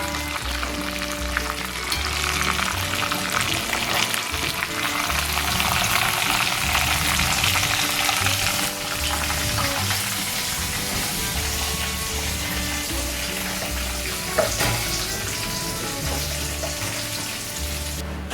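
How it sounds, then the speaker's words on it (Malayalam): Karimeen (pearl spot fish) frying in a pan for karimeen pollichathu, a steady close sizzle of hot oil with broad hiss running continuously, a background music bed underneath and no talk. "അപ്പോൾ നമ്മുടെ കരിമീൻ വളരെ നന്നായി നമ്മൾ ഫ്രൈ ചെയ്ത് കഴിഞ്ഞിരിക്കുകയാണ്"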